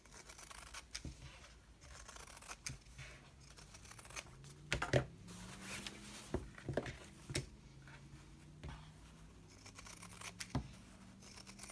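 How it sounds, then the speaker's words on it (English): Scissors trim embroidery fabric around a hoop, giving soft, scattered snips and crinkling fabric sounds at an uneven pace, fairly quiet and close. "You don't have to leave this much fabric as you're trimming, just depends."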